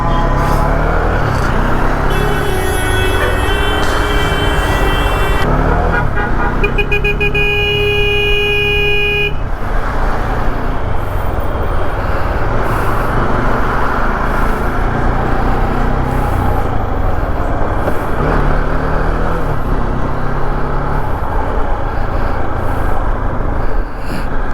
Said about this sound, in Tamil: சும்மா டிராஃபிக் மக்களே உண்மையாக.